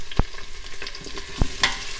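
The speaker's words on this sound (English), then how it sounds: "You can hear nicely sizzling, and it's also like getting like nice and golden brown to it." Onions sauté in an Instant Pot Duo 5.7 litre pressure cooker, a steady close sizzle broken by a few sharp clicks of stirring.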